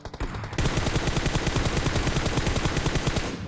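Loud, sustained automatic gunfire in a PUBG Mobile gunfight crackles in rapid bursts, close and dense, with no talk over it.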